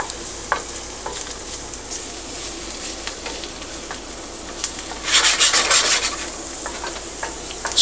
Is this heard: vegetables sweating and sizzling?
yes